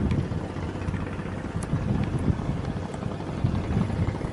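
Strong wind at sea roars over a fishing boat used for clam raking, a loud steady buffeting rumble that fills the whole stretch with no break.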